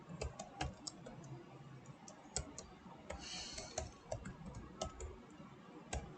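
Computer keyboard typing at close range: quick, irregular key clicks in short bursts, quiet and alone without any voice.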